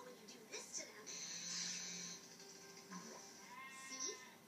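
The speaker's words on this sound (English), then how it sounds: "Cartoon sheep don't like it all when you do this to them." Cartoon sheep in the Cel Damage video game bleat in several short wavering calls over a steady buzzing engine-like drone, with a voice talking over much of it.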